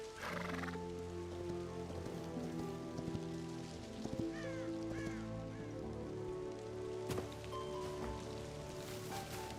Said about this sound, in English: Leave the horse in the little enclosure we put up here.